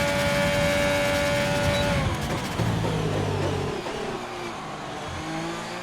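An F1 race car in a racing video game accelerates hard down a straight toward a heavy braking zone, its engine note climbing steadily through the gears, loud and continuous, with no talking.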